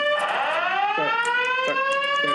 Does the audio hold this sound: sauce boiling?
no